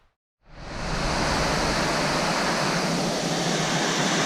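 Steady broadband rush of the Illinois River flowing beneath a bridge in the Kalmiopsis Wilderness, rising in after a brief quiet start and holding loud and constant, with no voices.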